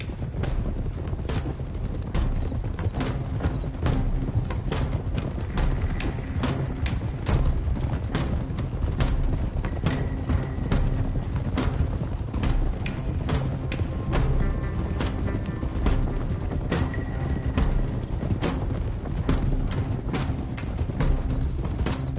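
Horse hooves from a group of riders in Red Dead Redemption 2, a dense, continuous clatter of clip-clop steps over a low rumbling bed, steady and close with no voices.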